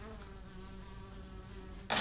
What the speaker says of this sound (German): Boah, die Fliege.